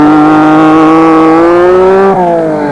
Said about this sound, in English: Lancia Stratos away